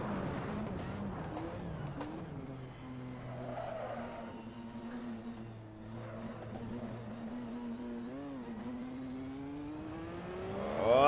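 McLaren MP4/4 turbo Formula 1 car in Assetto Corsa at Spa, engine tone sagging and rising again as the revs climb slowly, ending in a louder surge.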